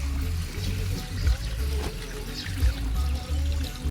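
Strong water flows and pours with a steady rushing, splashing roar and occasional heavier gushes, close and loud, in a parking area in Goa, Camarines Sur.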